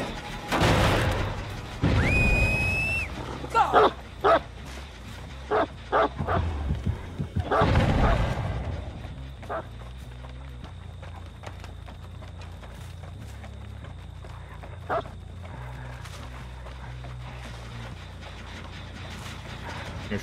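Hound barks ring out in the video game Dead by Daylight, a burst of several sharp barks early on followed by scattered thumps and game effects, with quieter ambience later.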